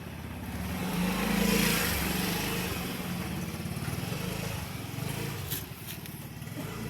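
An old motorcycle engine, rusted and unused for four years, runs steadily at close range, its rough mid-pitched idle swelling once early on and then settling into a continuous drone with no talk.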